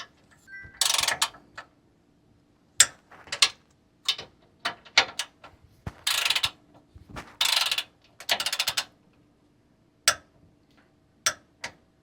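Ratchet clicking as sway bar bushing bolts on a Toyota 4Runner front suspension are tightened to 30 foot-pounds, heard in several separate bursts of rapid close-up ticks with pauses between them, no talking.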